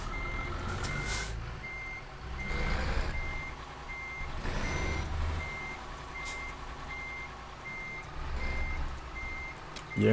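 Reversing beeps from a truck in Euro Truck Simulator 2, pulling a long trailer, with a steady evenly spaced beep over a low engine rumble and a short hiss near the end.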